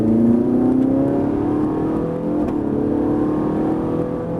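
A Ferrari 458 Italia accelerates on a track at Fay-de-Bretagne, its engine a loud, steady rising roar heard from close by, with no talk over it.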